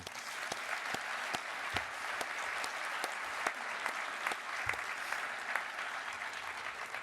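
An audience applauds at Stephen Curry's 2016 MVP acceptance speech, sustained clapping from a large crowd with sharp individual claps standing out, steady throughout.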